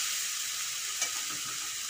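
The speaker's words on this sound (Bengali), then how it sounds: "শাক ভাজা হয়ে গেছে, এখন নামিয়ে নেব" Dhundul greens frying in a pan, a steady loud sizzle with a faint stir near the middle, close and continuous, with no talk.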